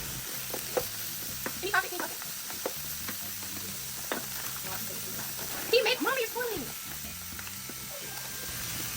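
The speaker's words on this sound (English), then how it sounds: "Then you want to add in your frozen mixed vegetables and stir those around." Frozen mixed vegetables sizzle softly in a pan as they are stirred, with faint scraping of the stirring, while a person talks over the low frying hiss.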